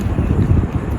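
Gusty outdoor wind buffets the microphone in a loud, low rumbling burst, fluttering unevenly over a second with no other sounds standing out.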